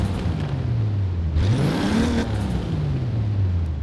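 A 1992 Toyota Supra 2.0 GT twin turbo in Forza Horizon 4 hums at a steady idle, then revs upward in one quick swell and settles back down, all at a moderate, even level.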